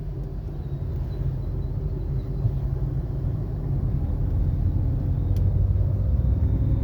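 Steady low engine rumble from a driving school car in Jaipur as the clutch is pressed and it shifts into second gear, a continuous drone with no clear gear change standing out.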